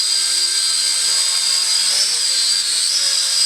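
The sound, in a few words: small drone with altitude hold flying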